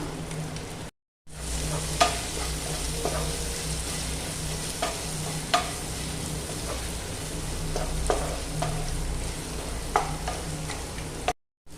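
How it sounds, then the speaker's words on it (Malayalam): Sliced onions sauté with ground black pepper in a pan, giving a steady, loud sizzle. Repeated scraping clicks from a spoon stirring come through at intervals, with a brief silent gap near the start and the end. "ഇത് നന്നായി ഒന്ന് വഴറ്റിയെടുക്കാം സവാള വാടി വരുന്ന സമയം"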